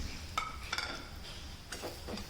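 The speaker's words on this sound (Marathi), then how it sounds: "आता आपण इथे भाजलेला कारला आहे तो भाजीमध्ये मिक्स करून घेऊ" A spoon stirs roasted bitter gourd into onions in a cooking pan, giving a few brief scraping clinks and light metallic taps spaced apart, fairly quiet and with no talk.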